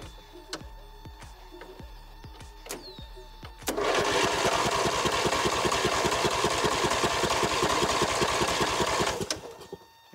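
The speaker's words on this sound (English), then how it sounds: "I have to start my tractor a little bit unconventionally" A tractor engine is started unconventionally, with clicks and taps at the solenoid, then catches and runs at a loud, even, chugging idle for about five seconds before it shuts off.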